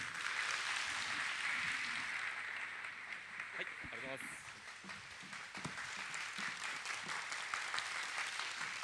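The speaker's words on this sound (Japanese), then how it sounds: "拍手でよろしくお願いします" Audience applause at a lecture hall event, steady dense clapping throughout with faint voices underneath.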